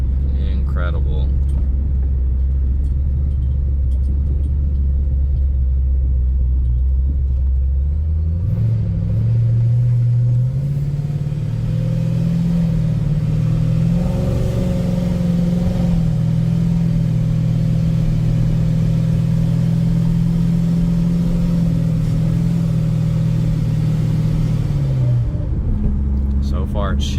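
Procharged, cammed 600 hp 2012 Chevrolet Camaro 2SS running on E85 rumbles loudly from inside the car, its engine note climbing through the gears and holding a steady drone under continuous talk.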